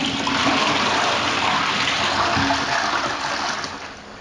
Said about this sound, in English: Then I'll give the toilet a flush.